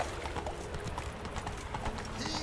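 Roach, a horse in The Witcher 3, gallops with a quick, rhythmic clip-clop of hooves, fairly close and continuous over a bed of game ambience.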